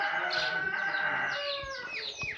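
Golden Sebright laying hen clucking close by in a short burst of repeated, rising and falling calls, loud and clear with no talk.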